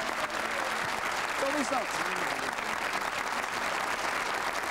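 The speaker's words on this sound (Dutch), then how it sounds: "En een geweldig applaus van ons Limburgs publiek." A Limburg studio audience at a 1991 Flemish television show applauds in a sustained, even clatter of many hands, while a person speaks briefly over it.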